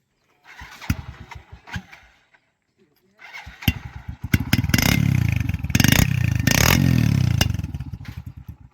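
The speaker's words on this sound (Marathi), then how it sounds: "आता गाडी आपण चालू करून पण दाखवणार आहे" A modified vehicle's engine is heard close up: after a few scattered clunks and a short pause, it cranks, catches and settles into a loud, steady running rumble that continues to the end.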